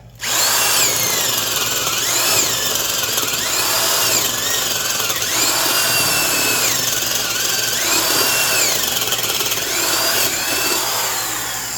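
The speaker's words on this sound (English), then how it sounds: "I'll just use this old Porter cable drill." An old corded Porter Cable drill, 4.5 amps at 1200 RPM, bores into wood with a spade bit, a loud steady whine with a rhythmic grinding wobble from start to finish.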